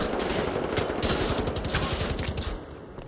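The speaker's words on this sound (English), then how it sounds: "Even this plasma can actually shred through his armor." Plasma rifle fire in Wolfenstein: The New Order comes as a rapid, steady stream of sharp automatic bursts, loud and close, that tapers off near the end, with no voices.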